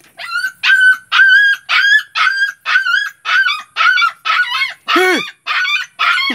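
A small dog gives a rapid series of high, whining cries and yelping barks, about a dozen evenly spaced calls close up, with no voices.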